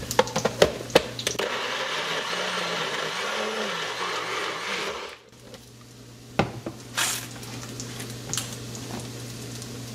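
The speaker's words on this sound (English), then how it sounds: "So I'm gonna go ahead and blend this, and then I'll blend it with my cilantro." An electric blender whirring through chiles for salsa, a loud steady motor drone with clattering, that cuts off midway, followed by a few knocks and clinks of handling.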